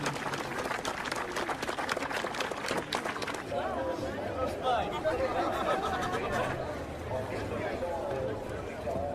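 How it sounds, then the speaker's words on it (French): An audience claps loudly in a dense burst for a police dog team with Falco, a five-and-a-half-year-old Malinois, after a carjacking demonstration. The clapping fades after about three seconds into crowd chatter and voices. "On les applaudit bien fort"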